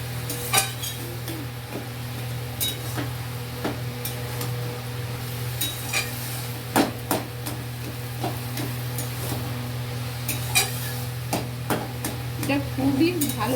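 Ash gourd being sautéed with cumin powder in a home kitchen pan, a soft steady sizzle under occasional clinks and scrapes of a spoon stirring against the pan.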